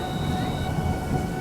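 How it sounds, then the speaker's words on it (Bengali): Thunder sound effect in a horror cartoon: a steady, loud low rumble with a faint windy hiss, filling the whole moment without any speech. "আর তারপরই শুরু হলো এক বজ্রপাত, তার সঙ্গে শব্দে বাতাস।"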